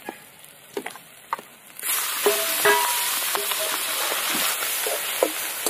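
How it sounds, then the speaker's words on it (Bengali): Quiet pan clicks give way to a sudden loud, steady sizzle as turmeric-and-salt-rubbed fish fat and roe hit hot mustard oil with dried red chili, panch phoron and garlic, with scattered crackles and pops throughout. "নুন হলুদ মাখানো মাছের তেল পটকা দিয়ে দেবো"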